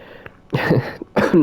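A character coughs in the survival horror game Resident Evil 7, two short harsh bursts close up against a quiet background.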